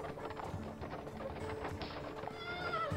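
Horses crossing a bridge in Bridge Constructor Medieval, a steady run of hoof clip-clops with a whinny or two mixed in, moderately loud against a busy game background.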